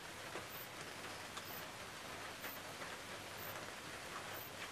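Steady rainfall hisses continuously and evenly, a soft wash of drops on surfaces with no talk, during an ongoing seasonal storm.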